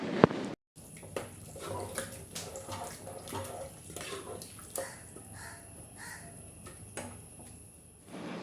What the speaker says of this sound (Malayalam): ഇനി ഒരു ഗ്ലാസ് വെള്ളം കൂടിയും ചേർക്കണം എന്നിട്ട് ഒന്നുകൂടി ഇളക്കി കൊടുക്കുക